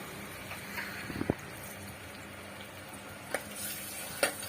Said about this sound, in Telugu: తర్వాత మనం ముందుగా కట్ చేసుకున్నటువంటి ఉల్లిపాయలు, పచ్చిమిర్చి వేసుకుని ఫ్రై చేసుకోవాలి.